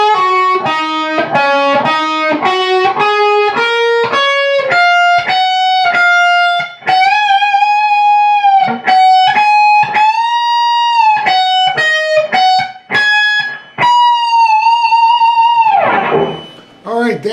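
An electric guitar plays a double-time solo with a little reverb and no delay: loud, fast runs of picked notes give way to long sustained, bending tones, ending in a noisy slide.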